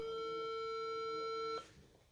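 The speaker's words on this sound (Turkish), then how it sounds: "Çalıyor." A steady electronic ringing tone plays on a phone call for about a second and a half, then cuts off abruptly into quiet line noise.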